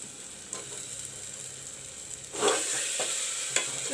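Curry masala, jeera powder and chopped tomatoes frying in a pan for a spicy channa and potato curry, a soft steady sizzle with a few light scrapes and a brief louder stir near the middle.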